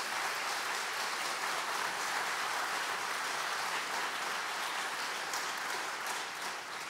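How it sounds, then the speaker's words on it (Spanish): Sustained audience applause at a Christian conference, steady, dense clapping from a large crowd that holds evenly for the whole stretch. "Vamos a darle un aplauso a nuestro Señor Jesucristo."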